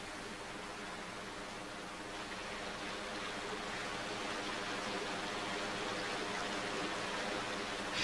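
A creek flowing in the wild, a dense, even rush of running water that grows slightly louder toward the end, with no voices.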